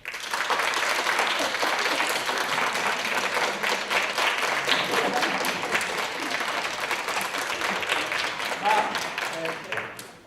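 Sustained applause from an awards gala audience, dense steady clapping that fills the whole stretch before tapering off at the end.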